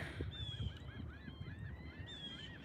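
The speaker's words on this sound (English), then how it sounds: "There's so many birds." A flock of geese honking continuously, many overlapping calls at a moderate distance over a low rumbling background, at a Florida shore at low tide.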